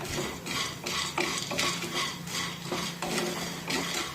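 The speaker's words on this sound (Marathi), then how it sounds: "आता या सांडग्यांना हलकेसे डाग पडेपर्यंत यांना आपण परतून घेऊया।" Dried lentil dumplings (sandge) being stirred and roasted in a pan: a spoon scrapes and clinks against the metal in a steady rhythm over a faint, soft sizzle.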